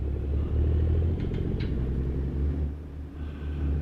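An International 9900i truck engine rumbles deep and steady in a driving video game, a loud continuous low drone that swells slightly and holds, heard alone.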